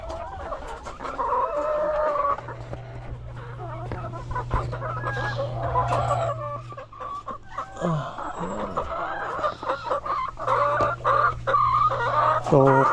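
Backyard chickens, one of them sick, cluck continuously close by, with a lower steady hum running under part of the stretch and occasional sharper calls.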